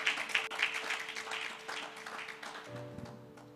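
A church congregation claps together in a lively burst with a few rhythmic accents early on, then the clapping thins as sustained keyboard notes come in near the end.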